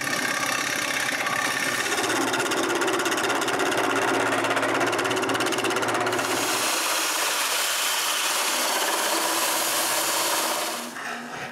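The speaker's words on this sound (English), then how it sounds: "So I decide to make this round using the lathe." A wood lathe spins a wooden tube round, giving a loud continuous motor hum with rough cutting noise whose tone shifts midway, then winds down near the end.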